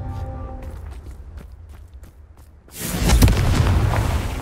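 Confringo fire-blast spell explosion in Hogwarts Legacy, quiet footsteps and soft movement giving way to a sudden loud booming blast that rumbles and lingers to the end.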